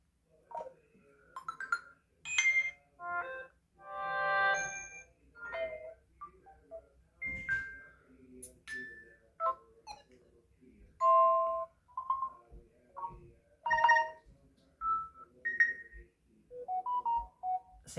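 A Samsung Galaxy phone plays a string of tonal ringtone or notification chimes, one after another with brief gaps, varied melodic blips and bell-like notes heard close and clear.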